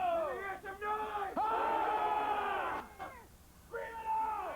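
A group of drill recruits screaming out loud together in sustained, strained bursts, close and loud, breaking off briefly before the massed yelling surges again.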